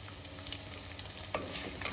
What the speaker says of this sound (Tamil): வெங்காயம் நிறையா வணங்கட்டும்.